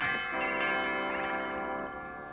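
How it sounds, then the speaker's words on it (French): Church bells ring out together in a sustained, resonant peal, loud and close, with long overlapping tones that swell and then slowly fade. "Sonnent les cloches de l'allégresse"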